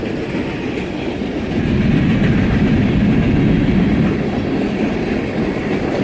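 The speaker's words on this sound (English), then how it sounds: "they're going to pull the train off onto the siding, this entire great big long train" Long freight train rolls slowly onto a siding at Winnemucca, Nevada, a steady close rumble of wheels and cars with faint rhythmic clatter, swelling a little midway and continuing throughout.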